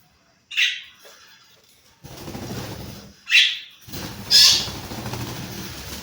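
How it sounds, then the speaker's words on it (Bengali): A common myna gives several loud, harsh squawking calls, separated by pauses, close to the listener with a faint background hiss. "শালিক পাখি আপনার মতো আমার মতো কথা বলে"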